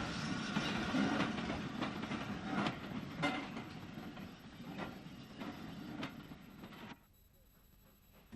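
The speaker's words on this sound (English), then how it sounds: "The branch was steeply graded and the tank engine had to work hard on their push-pull trains." Steam tank engine working a push-pull train up a steeply graded branch line in south east England, steady rumble and rhythmic beats with wheel clatter, ending abruptly into near silence.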